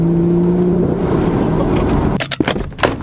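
BMW M140i with a straight-piped exhaust accelerating hard, a loud rising engine drone that ends in sharp pops and crackles.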